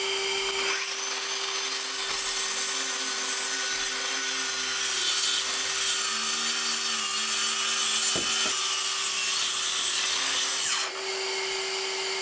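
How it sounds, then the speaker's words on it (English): Track saw trimming the ends of a wooden workbench top flush, a steady continuous whine of the blade cutting through wood for about ten seconds, close and loud, then stopping abruptly; no talking. "I'm going to grab the track saw and trim the ends flush first"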